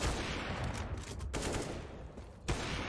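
Dense bursts of rapid gunfire in a professional CS:GO esports match, loud and continuous with a few sharper single shots cutting through.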